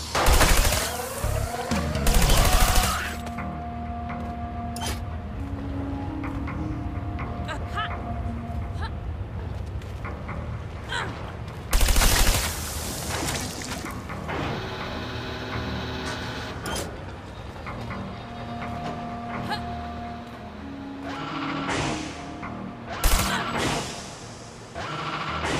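Rapid bursts of gunfire in the video game Trials of the Blood Dragon, loud fusillades recurring through the clip with game sounds, sharp clusters near the start, middle and end.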